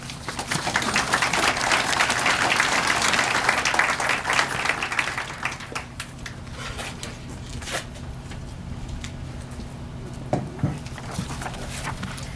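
An outdoor crowd at the Safety Town 50th anniversary celebration in Portsmouth, Virginia, applauds loudly for several seconds, then the clapping thins into scattered claps and shuffling over a low steady hum.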